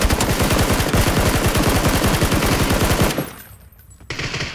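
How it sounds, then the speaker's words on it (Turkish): PUBG video game gunfire: a sustained rapid machine-gun burst of evenly spaced loud shots for about three seconds, then a quiet pause and a brief fainter rattle. "Kerim adamı vur, ben düştüm Kerim."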